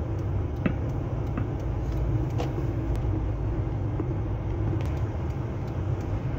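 Steady road rumble from inside a moving car in busy traffic on a road to Hara, a continuous low drone with a few faint clicks and distant knocks, no talk.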